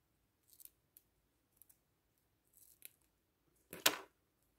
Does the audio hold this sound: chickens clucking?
no